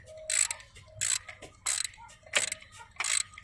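A hand ratchet works a nut loose on the valve cover of a 1995 Cadillac Sedan DeVille, five rhythmic clicking bursts as the handle swings back and forth, close and fairly loud with no talking over it.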